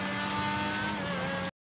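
A car engine in a snowy driving video game, a steady droning hum with tonal whine that holds level and then cuts off abruptly to silence near the end.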